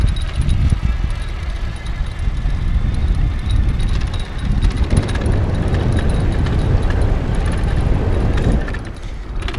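An EZ Pedaler T350 electric bike rides in its highest gear, giving a steady, loud rush of rolling and wind noise with faint rattles and no voices.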